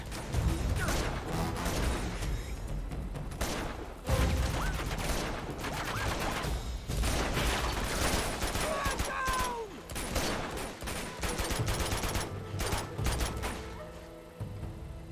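Gunfire in Uncharted 2 rattles in rapid bursts of rifle and machine-gun shots with thuds and game effects, loud and nearly continuous, with a voice speaking at times over it.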